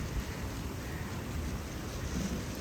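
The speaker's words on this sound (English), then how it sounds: "Ooh, hear the wind." Steady, loud wind rushing and buffeting the microphone at Lake Garda, Italy, a continuous low roar with no voices.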